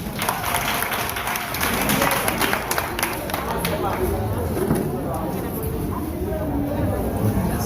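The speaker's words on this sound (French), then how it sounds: "On applaudit ces autres." Audience applause at a talent festival's comedy competition, a steady wash of clapping and crowd murmur with voices talking through it throughout.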